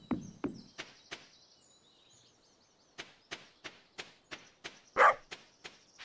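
Dog barking in the farming game Stardew Valley, a series of short, sharp barks spaced at a regular pace, loud and close, with a pause midway before the barking resumes.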